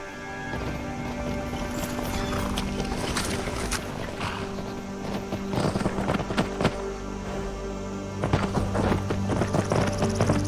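Horse hooves clip-clop at a steady gallop in a video game, loud and rhythmic throughout, with a faint voice urging the horse on near the end.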